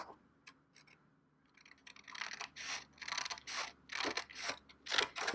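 Scissors cut paper for a mini album page, a series of crisp rasping snips that start after a quiet pause and grow louder, close and without talk.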